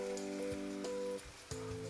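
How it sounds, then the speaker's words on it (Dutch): Chicken goes into a hot wok with its marinade, giving a soft, steady sizzle and crackle under the hum of a kitchen extractor fan, fairly quiet and close. "De kip gaat erin met de marinade."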